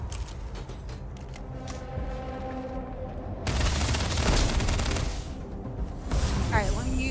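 Gunfire from a weapon in the space game Starfield, bursts of loud rapid shots after a quieter stretch of game sound, with someone talking over parts of it.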